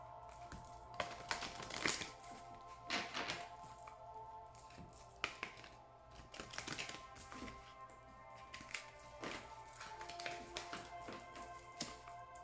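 Oracle cards shuffled by hand, a quiet, close series of crisp taps and papery riffles recurring in irregular bursts over a faint steady hum.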